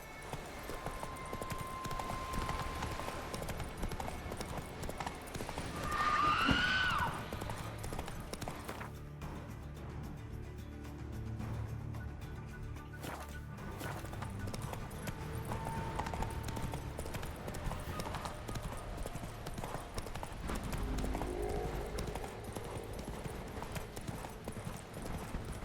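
Roach the horse's hooves clip-clop steadily in The Witcher 3: Wild Hunt, a continuous rhythmic trot heard close over game ambience for the whole stretch.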